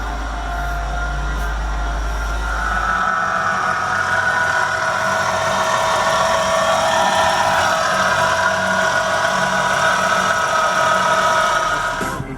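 A 2007 Honda Accord SE engine idles with a steady, loud drone throughout, starting with a deep low rumble that fades after a few seconds into an even hum, with no talking.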